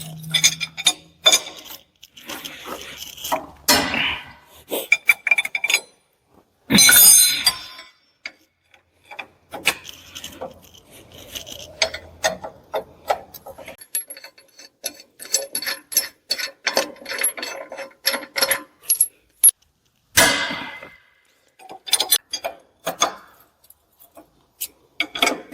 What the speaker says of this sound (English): Remove the caliper bracket.